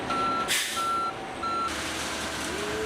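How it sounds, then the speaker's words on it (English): Concrete truck arriving at a new home construction site, its reversing alarm sounding in three steady repeated beeps over a constant engine rumble, with a brief air hiss partway through. "Finally, our first concrete truck arrived and we were ready to start pouring."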